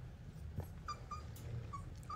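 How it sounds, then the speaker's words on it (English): Puppies about four and a half weeks old whimper softly in a few short, high, thin cries spread over a quiet, faint background. "Puppies."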